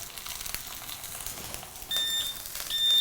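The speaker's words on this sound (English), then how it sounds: "Okay, now you can hear them beeping, and we're ready to check the burgers." A Star Pro-Max sandwich grill's timer sounds two short, high electronic beeps near the end, faint over a low background hiss.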